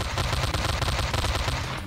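Rapid bursts of machine pistol fire in the horror shooter game Slendytubbies 3, loud and continuous automatic shots packed close together with no talk.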